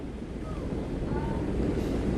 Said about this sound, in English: In that final band, some very gusty winds before we finally give.